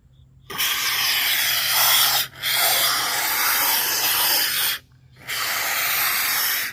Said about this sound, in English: And then we'll just start spraying around.